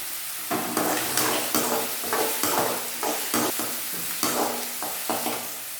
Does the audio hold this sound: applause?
no